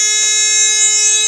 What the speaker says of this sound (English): The red light is on, buzzer is ringing.